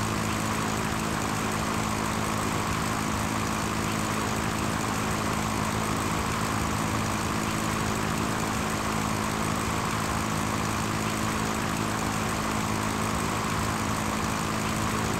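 A Cessna propeller airplane engine in the Sierra Pro Pilot flight game drones loudly and evenly, a constant buzzing hum with steady tonal layers throughout and no voices.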